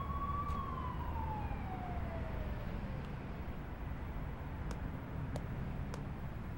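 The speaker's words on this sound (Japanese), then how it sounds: "さっきからやたらとパトカーが走り回っている。" A police car siren wails as a falling tone and fades into the distance over a dense, steady rumble of traffic, with a few faint clicks, in the PS2 game Blood: The Last Vampire.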